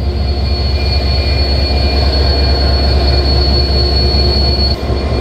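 The Titumir Express pulls out of Rajshahi railway station in the early morning, a loud, close, continuous rumble of wheels and coaches with a sustained high metallic wheel squeal running almost the whole time.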